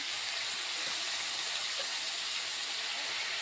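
Food sizzles and fries steadily in a pan with salt and turmeric added, a continuous close hiss with no talking.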